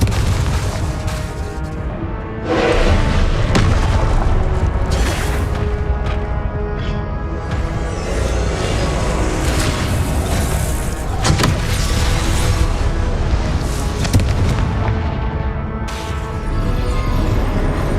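The Confringo fire spell from Hogwarts Legacy blasts again and again, loud booming explosions with crackling bursts in a dense, continuous stream of combat effects.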